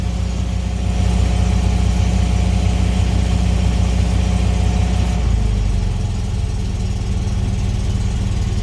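A Fiat engine idles after a cold start on choke, a steady loud close rumble with a regular low pulse; around five seconds the tone drops and settles lower as it comes off choke.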